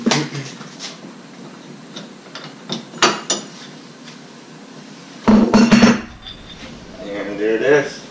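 Metal clanks and rattles sound as a ball joint press is taken off a wheel hub, a scattering of sharp knocks followed by a louder cluster of clattering, with brief voice sounds near the end.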